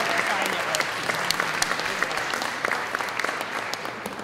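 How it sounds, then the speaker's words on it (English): Guests at an anniversary gala dinner clap together, a steady round of applause with sharp individual claps standing out, moderately near. "we're going to give him a round of applause."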